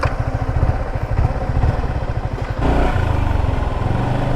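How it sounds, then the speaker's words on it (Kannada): Yamaha R15M motorcycle engine running close by, a steady loud pulsing throb with a slight change in tone about halfway through, heard alone without talk. "ಫಸ್ಟ್ ಟೈಮ್ ಗಾಡಿ ಓಡಿಸ್ತಾ ಇರೋದು R15. ಸೊ ಬನ್ನಿ ಓಡಿಸೋಣ."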